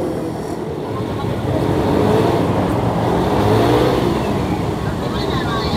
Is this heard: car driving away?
yes